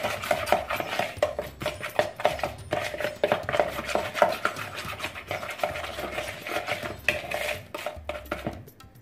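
A spoon stirs ginger and other ground spices into an Algerian dish in a metal pot. It makes a steady run of close scraping and clinking against the pot walls, with no talk.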